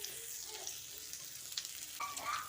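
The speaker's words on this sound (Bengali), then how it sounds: "তারপর ফোড়নটা একটু ভাজা হয়ে গেলে এর মধ্যে দিয়ে দিচ্ছি একটা বড় সাইজের কুচনো পেঁয়াজ" Chopped onion hits hot oil tempered with cumin and dried chilli, giving a soft, steady frying hiss and sizzle at low volume with faint stirring ticks, and no talk.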